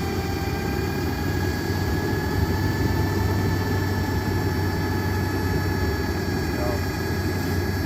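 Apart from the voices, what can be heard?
Metro FB-15 tow truck boom rotating, engine running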